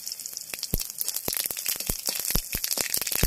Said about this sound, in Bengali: এবার কালো সর্ষে আর শুকনো লঙ্কা ফোড়ন দিয়ে দিলাম।